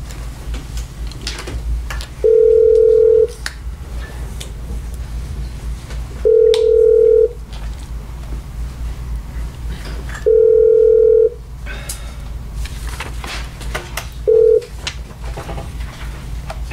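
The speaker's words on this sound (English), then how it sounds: "did not answer the phone when we called her" Telephone call tones during a county commissioners meeting: four steady beeping tones at regular intervals, the last one shorter, over a constant low hum and faint background noise.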